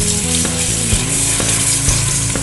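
Skimmed milk being whisked into a cooking flour mixture for béchamel sauce, a loud continuous sizzling hiss close up with faint periodic clicks of the whisk against the pan.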